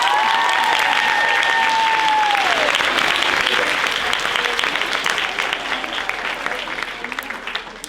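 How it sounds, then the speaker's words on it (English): A high school audience applauds a special recognition, a loud sustained roar of clapping that slowly tapers off, with a brief whistle-like tone near the start. "So big round of applause"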